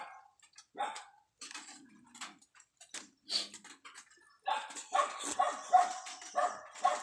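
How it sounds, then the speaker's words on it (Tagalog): A dog barks angrily at a rural farm, in short sharp bursts scattered across the clip, fairly close and moderately loud, with no talk over it. "May aso dito nagagalit."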